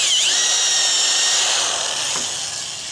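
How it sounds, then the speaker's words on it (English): A power drill fitted with a mortise bit bores a hole into wood, a loud, close, steady whine that holds for three seconds and slowly eases off. "make me a little hole here. I'm going to go about the depth of the head of the mortise bit"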